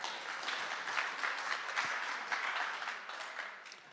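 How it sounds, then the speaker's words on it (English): Steady, moderately faint applause from the audience at a DePIN Day conference in Singapore, honoring a panelist, with dense even clapping that carries throughout and fades slightly at the end. "Let's give a round of applause for Clara."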